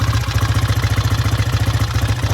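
A 1967 Triumph T90 350cc motorcycle engine idling close by, a throaty, even, rapid pulsing beat with no voices over it.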